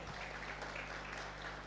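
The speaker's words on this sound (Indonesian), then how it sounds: "Tepuk tangan buat semuanya." Applause from an audience at an Indonesian character-building seminar, a steady dense wash of clapping that fills the whole short moment at low volume.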